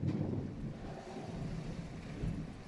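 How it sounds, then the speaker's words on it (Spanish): Strong wind buffets the microphone in a low, steady roar with gusty swells, like a storm blowing close by. "Hace mucho viento"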